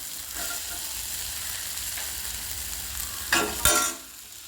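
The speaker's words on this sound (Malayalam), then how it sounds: "സ്ലോ ഫ്ലെയിമിൽ തന്നെ വഴറ്റിയെടുക്കണേ" Tomato, onion and carrot sauté over a slow flame in a little oil for an egg kurma, a soft steady hiss that ends with two louder scraping stirs.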